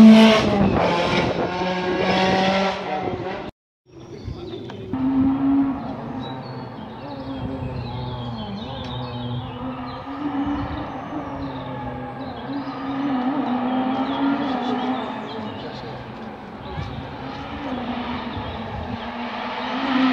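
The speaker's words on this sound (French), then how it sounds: "Ça, c'est une grosse bagnole." Rally car at the Rallye de la Matheysine, a loud engine roaring and droning steadily past for about twenty seconds after a brief silent gap, with no talk.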